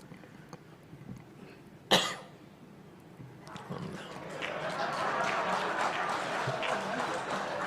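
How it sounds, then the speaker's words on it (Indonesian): A single sharp cough from a speaker at the podium of a party congress, loud and close, followed by a murmuring hall and growing crowd noise. "Saya batuk tadi"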